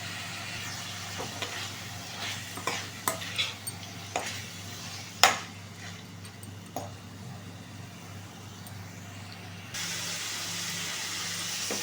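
Chicken liver sizzles and hisses in a frying pan, with scattered crackles and pops and occasional stirring scrapes, steady and close throughout.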